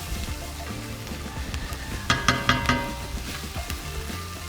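Chilies fry in a hot pan with a steady crackling sizzle, a few sharper spitting pops partway through, and light stirring sounds underneath.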